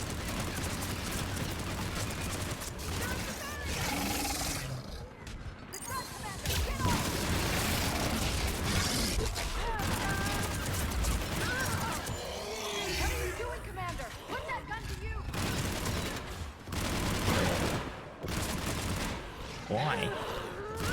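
A mounted gun fires in the video game Mass Effect 3 Legendary Edition, with sustained volleys of rapid shots and booms in a loud battle mix, and voices heard through the din.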